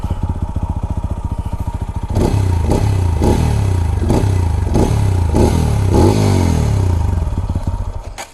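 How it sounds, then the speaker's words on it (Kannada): A TVS Apache RTR 200 4V motorcycle with a double-barrel exhaust idles with a loud, rapid thump, then is revved repeatedly in strong surges, close and alone, before settling back. "ಎಸ್ಪೆಷಲಿ ಡಬಲ್ ಬ್ಯಾರಲ್ ಎಕ್ಸಾಸ್ಟ್ ಏನು ಕೊಟ್ಟಿದೆ ನೋಡಿ, ಇದರಿಂದ ಸೌಂಡ್ ತುಂಬಾ ಚೆನ್ನಾಗಿ ಬರುತ್ತೆ ನಿಮಗೆ."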